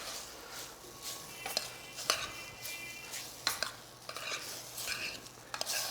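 A spoon folds summer crumble fruit filling in a pan, making soft wet stirring with light scrapes and occasional clinks against the pan, quiet and close, with no talking.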